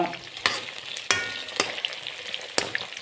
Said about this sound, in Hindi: बिल्कुल परफेक्ट ये चिकन रोस्ट हो रहा है।